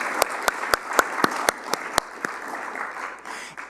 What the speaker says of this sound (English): let us give a round of applause again